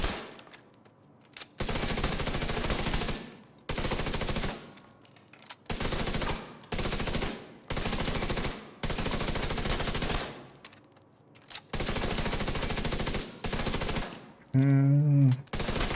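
Automatic gunfire from a video game shooter, with long sustained bursts of rapid shots broken by short gaps, loud and close, plus a brief warbling tone near the end.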